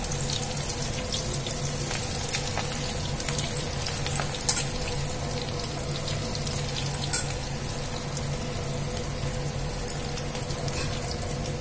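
Cauliflower (gobi) pieces deep fry in hot oil, making a steady, close, crackling sizzle and bubbling hiss that continues evenly throughout with no talking.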